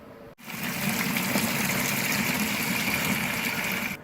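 Water gushes steadily from a brewing vessel into an all-grain mash tun for preheating, a continuous close pour that starts abruptly after a brief pause and runs for several seconds.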